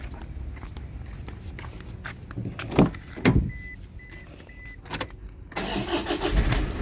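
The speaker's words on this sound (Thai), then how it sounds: "อ่าสตาร์ททีเดียวติดนะครับผมเครื่องดีมาก ฟังเสียงเครื่องของตัวรถนะครับ" A 2012 Toyota Hilux Vigo Champ 2.5E four-door pickup sits quietly, with a few clunks and a brief whirring, before its engine cranks and catches near the end and settles into a steady low idle.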